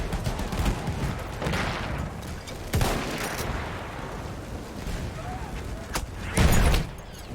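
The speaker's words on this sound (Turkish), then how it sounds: "Tank topu." Heavy booms of a tank cannon in the Battlefield 1 shooter, several loud blasts spread across a steady din of battlefield gunfire, with the last blast coming heaviest near the end.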